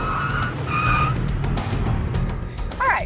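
A BMW skids through an avoidance course at 50 mph, its tires squealing in short, sharp bursts over a steady engine roar, loud and close, with no talking.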